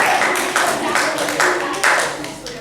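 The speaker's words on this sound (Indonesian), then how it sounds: "kalau begitu kita tepuk tangan lagi." A class of students claps in a few rhythmic bursts in a classroom, fairly loud and close, with a voice mixed in among the clapping.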